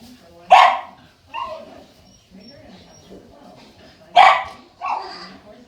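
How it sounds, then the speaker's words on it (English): Dogs bark in a quiet room: two loud, sharp barks several seconds apart, each followed by a softer, shorter bark. "Had to kick the dogs out. They were barking too much."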